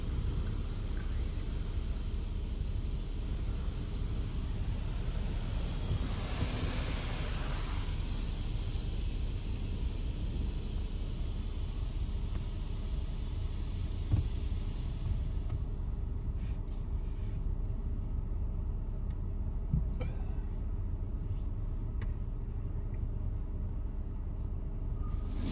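A Ryko Radius touchless car wash at a Sam's Club in Rib Mountain, Wisconsin, sprays pre-soak in a steady, dense rushing hiss over a low rumble, heard from inside the car.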